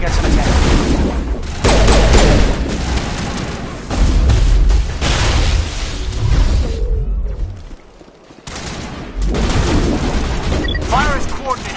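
Loud, dense gunfire and booming explosions in a Mass Effect-style squad combat game, with bursts of rapid shots and heavy blasts nearly continuous throughout, briefly dropping near the end before resuming; voices speak over the battle.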